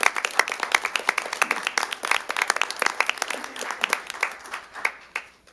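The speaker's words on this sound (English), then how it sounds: "Let's give Nate a big round of applause." A room of people at a city council meeting gives a round of applause, dense clapping that starts strong, then thins out and fades over several seconds.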